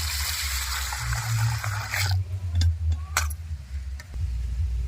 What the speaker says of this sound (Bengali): একবার পরিষ্কার জলে ডাল ধুয়ে নিয়েছি আর একবার ধুয়ে নেবো